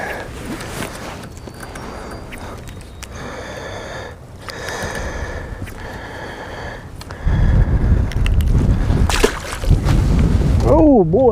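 Strong wind buffets a boat drifting on open water, gusting and rumbling loudly against the microphone, with rushing surges growing heavier toward the end and brief breathy sounds mixed in.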